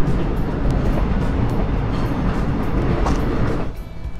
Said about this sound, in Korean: 와우, 기차 지나간다.